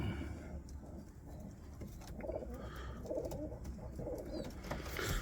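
Soft, low cooing from an Ankara güllü pigeon repeats under a rustling background, with a few faint flutters and scratches nearby.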